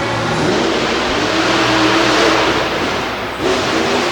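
A monster truck engine revs hard after a jump at an arena show, a loud, sustained roar that holds steady, dips briefly near the end, then swells again.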